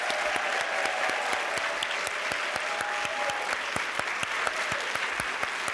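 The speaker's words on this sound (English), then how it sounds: "let's give another round of applause to all our recipients tonight" Sustained audience applause at a community arts awards ceremony honoring recipients, a dense steady clapping with sharper individual claps popping through, holding evenly for about six seconds.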